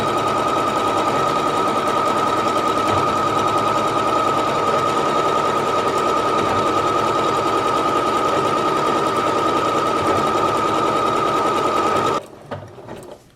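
A Singer HD 6805c sewing machine darns fabric in one loud, steady, continuous mechanical whir of rapid stitching that runs for about twelve seconds, then stops abruptly, leaving a few faint handling clicks.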